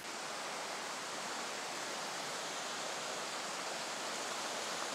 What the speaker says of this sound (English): So the waterfall's really opening up here.